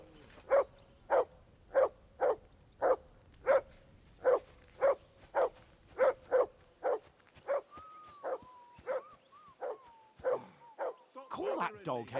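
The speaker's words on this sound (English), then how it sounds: "I assume you can hear that damn dog of yours barking." Repeated sharp barks from a dog in Kingdom Come Deliverance 2, evenly spaced and fairly close, keep going for a long stretch with faint voices and movement near the end.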